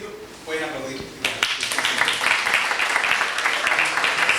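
An audience at a talk on democracy and human rights in Cuba bursts into sustained applause after a brief moment of speech, the clapping dense and steady to the end.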